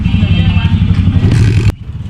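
A motorcycle engine runs on a road after water was drained from its spark plug cap. The loud, close, rough rumble with some clatter stops abruptly near the end.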